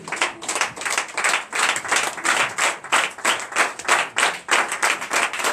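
A church congregation at a night deliverance service claps in steady rhythm to acclaim God, with many hands striking together in regular, lively beats at moderate loudness.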